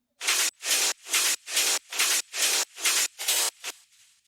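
Hi-hat samples in a hardgroove techno track: eight evenly spaced, sustained hissing hat hits at a steady pulse, bright and close, the last trailing off softer.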